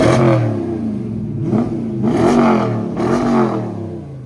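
Dodge Challenger fitted with Flowmaster 40 mufflers, a rear delete and new tips, revved three times in a row, each blip swelling into a loud, deep roar before falling back to a rumbling idle, close by.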